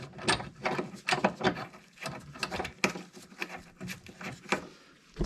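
A ratchet wrench clicks in quick uneven bursts while rock sliders are bolted onto a Jeep TJ, close and fairly quiet, with light metallic rattles between the runs of clicks.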